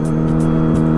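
A motorbike being ridden on a morning road, its engine a loud, steady close-up drone that continues without a break, with no voices.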